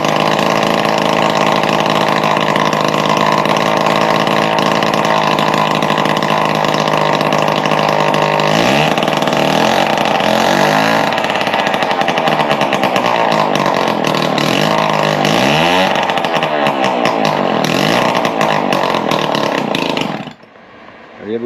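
An old restored small engine, likely a vintage two-stroke, runs steadily at a loud, buzzy idle with revving swells in the middle, then cuts out abruptly near the end.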